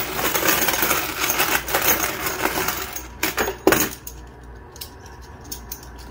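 Silver coins and tokens clatter and jingle as they are shuffled through by hand, a dense metallic rustle that thins into a few separate clinks near the end, with no voices.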